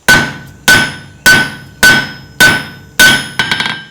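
Hammer strikes ringing off hot steel over an anvil horn while forging a simple leaf, six loud, evenly spaced metallic blows with bright sustained ring, the last followed by a quick rattle of small bounces.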